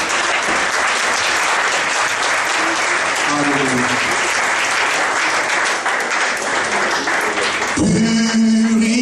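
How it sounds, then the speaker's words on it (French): A church congregation applauding and acclaiming the Lord, dense sustained clapping and cheering voices throughout, with louder voices rising near the end. "Et tout le monde acclame le nom du Seigneur."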